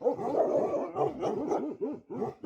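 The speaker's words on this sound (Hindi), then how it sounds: "डॉग्स काफ़ी बार्क कर रहे हैं तब से" Bhotia dogs bark at night at two leopards hiding up on a roof, a rapid overlapping chorus of barks at moderate distance that keeps going and breaks off briefly near the end.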